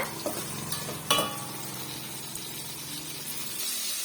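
Tomatoes and small shallots sauté in a pan for an egg curry, a steady low sizzle and bubbling that runs throughout, with a brief stirring clatter near the start.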